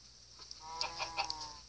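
Minecraft chickens clucking in a short run of several quick, bright calls, moderately close and alone with no talk.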